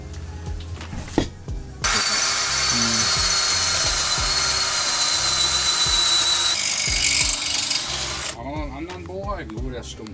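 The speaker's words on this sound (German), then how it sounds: "haben wir so viel von der Schraube mit Hilfe eines Akkuschraubers weggebohrt" A cordless drill bores out a stuck screw on a Vetus M4.17 marine engine, whining loudly and continuously for several seconds between scattered clanks and brief handling noises.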